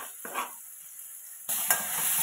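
Green chillies and tomatoes stirred and fried in a pan for Indian-style masala pasta, with a soft scrape of stirring, then a louder steady sizzle rising partway through, close and without talk.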